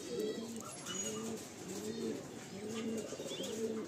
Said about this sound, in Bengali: লাল দোবার সদ্দুম পায়রা, মাদি পায়রা, এটা মাদি পায়রা,